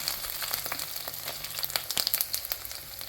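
Crushed ginger and torn garlic cloves sauté in a hot pan while a squid roast is being made, giving a low steady crackle with scattered sharper pops and a faint hum underneath.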